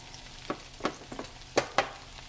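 Southern-style okra frying in a pan gives a soft, steady sizzle, with a few louder scrapes and clatters from stirring scattered across it, close by and fairly quiet.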